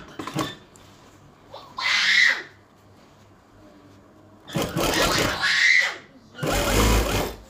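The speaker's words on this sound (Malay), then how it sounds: "So kita pun jahit." Sewing machine stitching a baju kurung, a traditional Kedah-style Malay garment, running in three separate bursts of about a second or two each, separated by quieter pauses with faint background sound.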